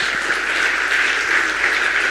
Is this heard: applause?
yes